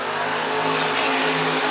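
Stock cars roar off turn four at Worthing Speedway, a loud, continuous blend of racing engines at near-constant pitch with a faint tire squeal.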